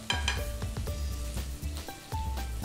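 Stuffed okra (bharwa bhindi) sizzles and fries steadily in a pan, with intermittent clinks and scrapes of a utensil stirring and turning the pieces, close and fairly loud with no talking.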